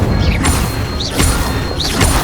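Three loud Incendio fire spell blasts from the Hogwarts Legacy video game follow one another at roughly even intervals, each a rushing whoosh of flame over a continuous noisy game backdrop, with no clear speech.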